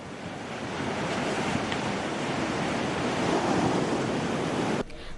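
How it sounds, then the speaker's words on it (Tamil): Rough sea waves on the Ambalangoda coast produce a steady, loud surf roar with wind buffeting the microphone, then cut off abruptly just before the end. "அம்பலாங்குடை மற்றும் அதனை அண்மித்த கடற்பிராந்தியத்தில் இன்று காலை முதல் கடல் சற்று கொந்தளிப்பாக காணப்பட்டது"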